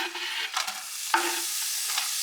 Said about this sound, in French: j'ajoute mes oignons émincés.